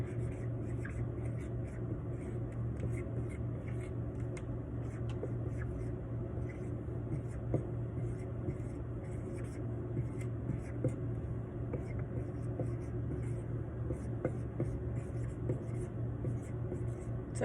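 A line is written out on a board in a quiet room: faint, steady scratching and tapping strokes continue under a constant low background hum for a long stretch, with no clear talk.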